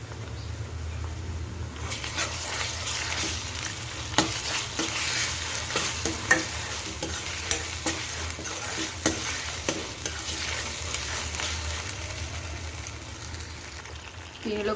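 Ginger garlic paste sizzles and fries with softened onions in a pan for a gumbo-style brinjal curry, a steady broad sizzle with periodic scraping stirs of a spoon across the pan, close and continuous with no talking.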